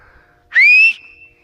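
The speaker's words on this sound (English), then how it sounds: "I am going to show you how to whistle really loud with your fingers" A loud two-finger whistle, a single sustained rising blast of about half a second, close and alone against a quiet background.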